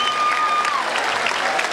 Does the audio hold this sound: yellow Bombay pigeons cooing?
no